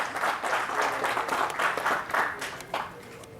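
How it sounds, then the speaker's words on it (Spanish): Audience clapping at a horse auction sale ring, a few seconds of moderately loud, uneven applause from a modest crowd that tapers off at the end. "Fuerte el aplauso."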